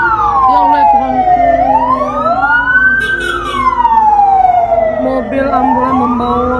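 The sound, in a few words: ambulance siren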